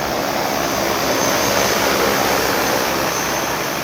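An agricultural crop-spraying drone flies over a farm field, its loud, steady whirring rotor noise filling the air close by without pause.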